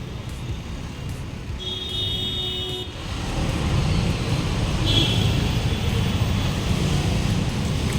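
Road traffic rumbles past on a busy street in Kamothe, with two short car-horn toots a few seconds apart rising over the steady engine and tyre noise, which grows louder midway.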